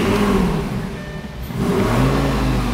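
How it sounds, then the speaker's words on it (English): A cheap exotic car's engine revs hard toward its rev limiter, climbing to a loud sustained roar, easing briefly, then surging again, close and alone with no talk. "Am I supposed to hit the rev limiter?"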